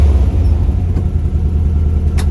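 Car engine idling with no load, a loud steady low rumble close by with a brief click near the end and no talking.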